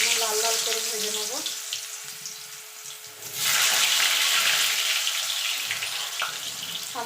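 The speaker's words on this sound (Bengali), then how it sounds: "আলুগুলোকে প্রথমে লাল লাল করে ভেজে নেব।" Potato pieces frying in hot oil for a Bengali echor chingri dish, a steady watery sizzle and crackle that swells louder midway and stays bright and close, with no talk.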